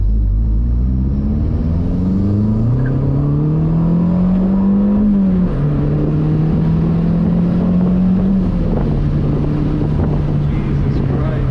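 A Mazdaspeed 3 engine with a cold air intake revs and climbs through gears, pitch rising and dropping with each shift, loud and close with wind buffeting and a voice underneath.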